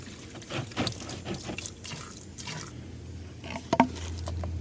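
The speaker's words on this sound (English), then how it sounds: "Pour half of it. I just lean it on its side like this and wait till it stops." Pool antifreeze glugs and patters out of a tipped container into a pool line, uneven splashes and drips with a short louder burst near the end.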